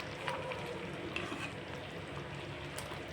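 Eggplant masala curry fries in oil while being gently stirred. A soft, continuous sizzle runs throughout at low volume, with faint occasional clicks from the spoon.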